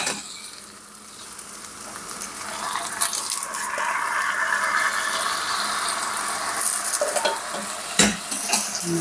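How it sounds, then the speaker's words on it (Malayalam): Washed barley stirred in hot coconut oil in a pan makes a continuous bright sizzle, with scraping stir strokes and crackles throughout and one sharp clack near the end. "നന്നായിട്ട് ഇളക്കി മറിക്കാം."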